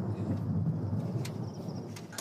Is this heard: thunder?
yes